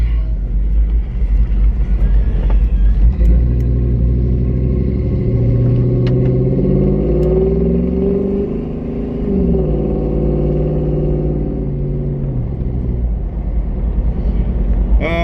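An old vehicle's engine idles with a deep, loud rumble, then revs up and down in a couple of smooth rising and falling swells before settling back, heard close with no talking.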